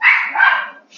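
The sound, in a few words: dog barking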